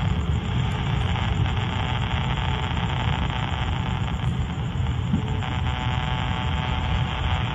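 Steady broadband hiss and buzz of power line interference on a ham radio receiver, a constant loud noise filling the whole clip with a faint underlying hum and no voices.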